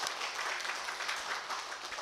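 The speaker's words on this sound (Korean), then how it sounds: "세 분 열심히 할 수 있도록 격려의 박수를 한번" Faint, steady applause from a church congregation at a New Year's Day worship service, offering encouragement, with no voices over it.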